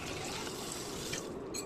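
Water poured into a pot of nearly cooked dal sambar, a steady close trickling splash running throughout with a brief brighter burst near the end.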